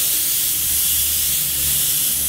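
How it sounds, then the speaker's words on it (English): Airbrush spraying reduced paint in a broad pattern onto black paper, giving a steady, close, continuous airy hiss throughout with no talking. "I'm gonna spray out on this black bit of paper so you can see how it flows"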